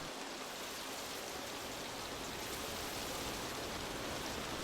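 Evening rain falls in a steady, dense hiss, continuous and even throughout with no distinct drops standing out, close and enveloping at a soft level.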